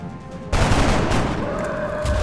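Gunfire in XCOM: Enemy Unknown: a sudden loud burst of shots erupts and sustains as a dense, rattling fusillade over low rumble, with no talking.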